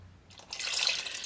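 Milk pours into a pot of flour and onion mixture for chicken pot pie, a soft liquid stream that starts abruptly and continues steadily, fairly faint and close, with no voices.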